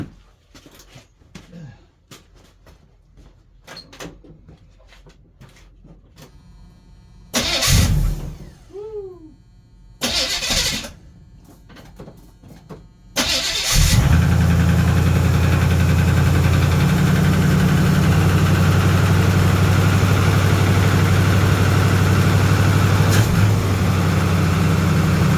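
A 1983 Chevy square body pickup engine after a valve change: some clatter and short cranking bursts, then the engine catches and settles into a loud, steady, rumbling idle that runs to the end without talk.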